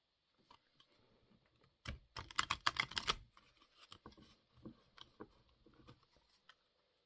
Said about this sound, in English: So let's give them a shuffle.